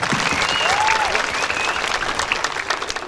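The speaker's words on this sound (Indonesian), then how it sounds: "Oke, tepuk tangan dulu" A crowd applauds steadily at a Balinese bondres comedy show during an arts appreciation week, with a few whistles cutting through the dense, close clapping for about three seconds.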